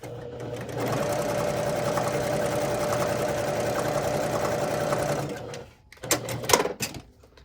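Sewing machine stitching a quarter-inch seam joining a heart piece in a scrappy quilt, running fast and loud for about five seconds, then stopping, followed by a few clicks and handling sounds.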